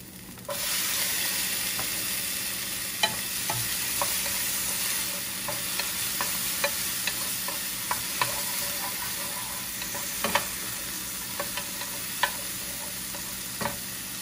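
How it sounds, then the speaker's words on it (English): Chopped tomato sautéed in a pan for a misua and corned beef soup gives a steady, close sizzle with scattered clinks and scrapes of a stirring utensil across the whole stretch, and nobody speaks. "Let's add tomato and saute a bit."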